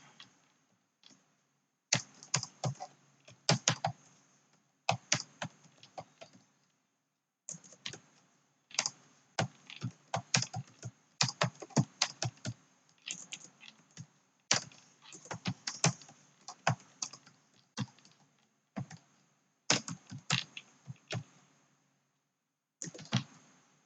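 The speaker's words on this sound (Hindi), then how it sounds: "थोड़ा सा और मैं इसमें टाइप कर लेता हूँ" Computer keyboard typing in Notepad: rapid bursts of close, crisp key clicks in uneven runs separated by short pauses, with no voice over it.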